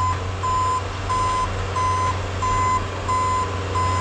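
A Bobcat skid loader plowing snow sounds its reversing alarm while backing away, a steady series of about seven loud, evenly spaced beeps over a constant low engine drone.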